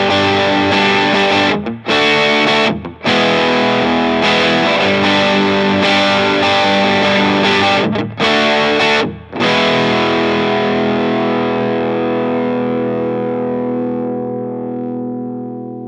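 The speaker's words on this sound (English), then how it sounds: "now I have all my Mad driver pedal settings to noon" Electric guitar played through a Mad Driver overdrive pedal in normal mode with its settings at noon, giving a loud, sustained distorted tone with a few short breaks between chords before a long final chord rings and slowly fades.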